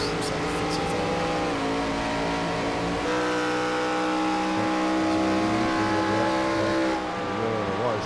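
A race car engine held at full throttle in an onboard view of an elite division race at Homestead, a loud, steady droning whine whose pitch shifts slightly as it continues, with voices underneath.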